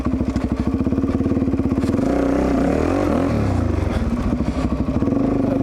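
A carbureted motorcycle engine runs steadily up close, its loud rhythmic thrum shifting midway as the revs change, with no talking over it.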